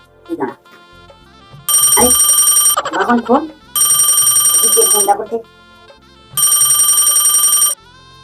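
A loud electronic telephone ring sounds in three long bursts, with a person's voice speaking in the gaps between rings.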